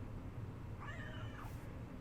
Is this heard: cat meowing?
yes